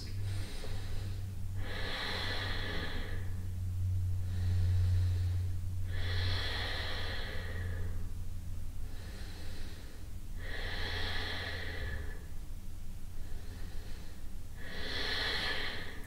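Slow, deep breaths during a beginner yoga stretch for tight hamstrings, spine rounded and feet pressed into the mat: four long, airy inhale-exhale cycles, evenly spaced and close, over a low steady hum with no talking.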